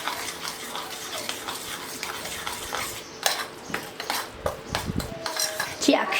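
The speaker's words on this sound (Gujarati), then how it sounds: "આપણે એકદમ સરસ હલાવી લઈએ" A spoon clinks and scrapes in a bowl as chana dal vada batter is mixed with hing, cumin and garam masala, the irregular knocks and scrapes getting busier toward the end, with no voices.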